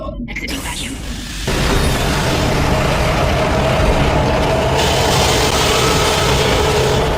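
A train roars in the horror video game Dead Space, breaking in suddenly after a quieter start and holding as a loud, steady, dense rumble to the end.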